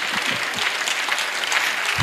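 Brief burst of congregational applause at a church public lecture, dense steady clapping with a few low voice-like sounds mixed in.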